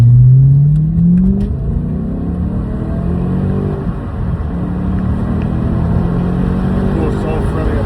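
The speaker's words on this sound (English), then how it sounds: "Hear this exhaust." An original Audi RS4's exhaust revs up and settles through several rising and falling engine swells, heard from inside the car with the window down, loud and steady throughout.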